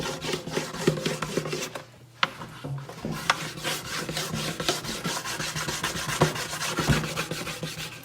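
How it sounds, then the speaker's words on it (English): Wood of a swarm trap bait hive being rubbed by hand across the grain: continuous raspy scraping strokes in a quick repeated rhythm, close and fairly quiet, with a brief pause early on. "Works a whole lot better if you rub it across the grain like this."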